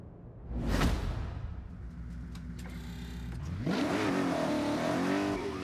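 A drag-racing car revs in Forza Horizon, starting with a whooshing pass, then a steady idle drone before the engine climbs into loud, rising revs that hold near the end.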